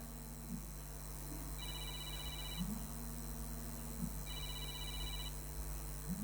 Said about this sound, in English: Sudevi, the phone is ringing.